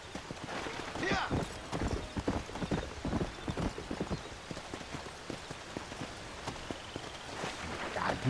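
Horse hooves clip-clop at a walk in the video game Red Dead Redemption, a steady close series of hoofbeats with faint rain in the background and someone speaking over them at times.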